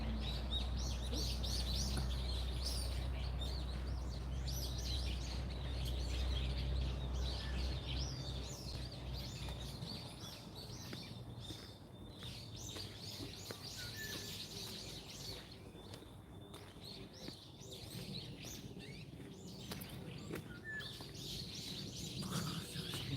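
Birds chirp and sing steadily throughout at a forest research institute, several calls overlapping at moderate distance over a constant low rumble, with occasional clearer tweets standing out near the end.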